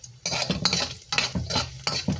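Chicken adobo cooking in a pan, with repeated stirring strokes and scraping of a utensil over a steady sizzle, close and fairly loud in bursts.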